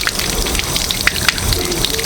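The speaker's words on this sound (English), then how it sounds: "So we're just going to rinse these off with some cold water." Cold tap water runs steadily over brined salmon pieces being rinsed, a close, continuous splashing and patter with a few sharper drips, and no voices.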